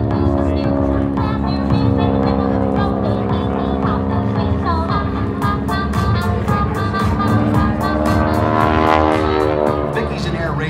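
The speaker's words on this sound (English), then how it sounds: "But you see the propeller tips out at the end of that big propeller, big windy radial engine." A Boeing Stearman biplane at an airshow, its big radial engine and large propeller producing a loud, throbbing drone with a steady rhythmic beat, close by and rising slightly toward the end, with no talk.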